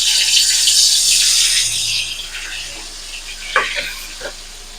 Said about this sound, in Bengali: তেলটা গরম হয়ে গেছে, আমি পটলগুলোকে এবার একে একে ছেড়ে দেবো তেলের মধ্যে